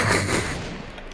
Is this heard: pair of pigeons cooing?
no